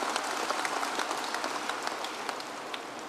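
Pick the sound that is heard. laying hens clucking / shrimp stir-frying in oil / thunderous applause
thunderous applause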